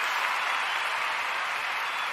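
Steady applause from a crowd of clapping hands at an AFCON 2023 football match, a dense, even wash of claps holding at constant loudness throughout with no voices standing out.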